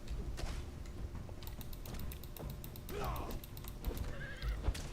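A horse in a video game neighs with a sharp whinny among hoof clip-clops, while keyboard clicks and faint talk run underneath.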